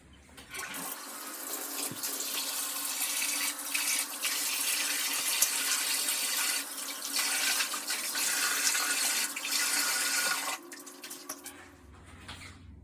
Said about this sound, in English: Rinse out your rag with clear water and rinse off the soap.